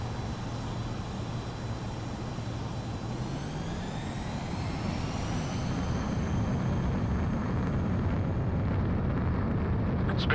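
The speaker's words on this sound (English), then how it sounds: "The base commander's transport craft has taken off." A military transport aircraft in the Ace Combat game takes off, its jet engine roar swelling into a loud, rising whine that climbs in pitch and stays steady and near throughout, with no voices.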